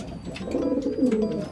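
A domestic pigeon coos in a low, rolling courtship call while giring, a continuous warbling hum close by, with faint higher chirps from other birds in the background.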